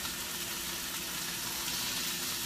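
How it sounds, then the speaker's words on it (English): Pork tenderloin sears in a hot pan with a steady, even sizzle and crackle that fills the whole stretch, close and moderately loud, with no voice over it. "Try not to touch it after it hits the pan, because you want to give it a nice even sear."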